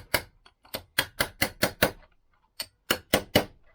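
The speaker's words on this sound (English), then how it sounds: "I'm putting that through the middle of the rod against the bearing, and then just tapping the bearing out" A metal rod taps a bearing out of a Lambretta scooter hub in sharp, close hammer knocks, first a quick run of evenly spaced strikes, a short pause, then a few more.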